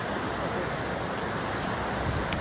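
Steady broadband rushing of a waterfall, unbroken and fairly loud, filling the whole stretch with constant white-noise wash and no clear voices.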